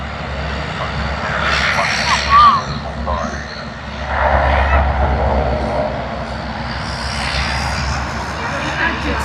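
A heavy Jetstar jet rumbles at Sydney Airport, a broad steady engine roar with low drone that swells around the middle, with people talking over it.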